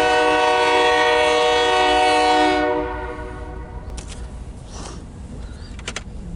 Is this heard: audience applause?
no